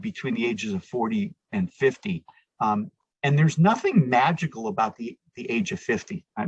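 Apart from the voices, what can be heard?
No distinct noise like a dog, phone or traffic.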